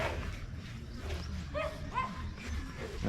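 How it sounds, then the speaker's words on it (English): Dogs on a rural pig and goat farm in Cebu give a few short barks and yips at moderate distance, with faint outdoor background and little talk. "Oh, there are some dogs."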